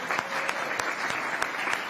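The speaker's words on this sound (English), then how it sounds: "you can applaud on that." Audience at a city council meeting applauding, a thin, fairly quiet patter of scattered clapping with a few sharper individual claps standing out, heard from some distance in the room.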